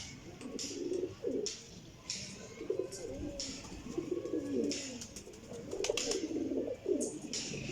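Ferozpuri golden pigeons cooing nearby in a run of soft, rolling throaty coos, broken by short scuffling and wing-rustle bursts against quiet background noise.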